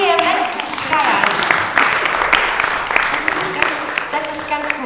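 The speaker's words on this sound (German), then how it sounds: "Ein Applaus für den kleinen Vehement-Schreier." A small audience claps and applauds for a few seconds, the scattered clapping mixed with a voice speaking over it.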